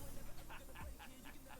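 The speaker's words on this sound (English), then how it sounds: "That's a dog, not a baby." A dog whimpers softly with a series of short, high, repeated whines spaced roughly evenly, faint and close, over a quiet room background.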